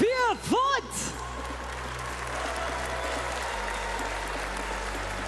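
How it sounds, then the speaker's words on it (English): At a Brawl Stars esports event at gamescom, an audience claps in steady, sustained applause. A voice speaks briefly over a whoop at the start, then the clapping continues alone. "Can we get a huge round of applause"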